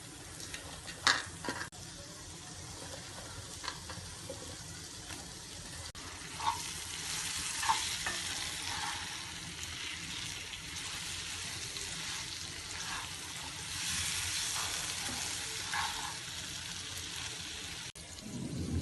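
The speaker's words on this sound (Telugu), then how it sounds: "ఇలా వేయించుకోవటం వల్ల పచ్చదనం పోతుందండి" Spinach frying in a pan for dhaba-style palak paneer, a continuous hissing sizzle with occasional light stirring clicks and a few louder bumps, steady and fairly close with no speech.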